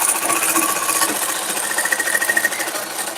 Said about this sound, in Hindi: अब सिलते चले जाइएगा